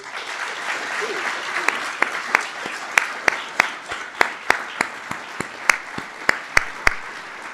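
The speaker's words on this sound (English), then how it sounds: "let's give Mr. Jenkinson one last round of applause" Applause for Dr. Clay Jenkinson at the close of a humanities lecture: a soft wash of crowd clapping with a few loud, isolated nearby claps ringing out in a slow irregular rhythm.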